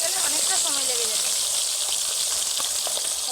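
A large fish head fries in hot oil in a crowded wok, giving a steady, loud, dense sizzle throughout, with a voice speaking briefly at the start.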